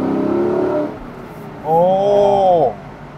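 Lexus LC500 convertible engine revving through a manual upshift, a dry, rising snarl heard twice with a brief dip between, close and loud, with a man's short exclamation near the start.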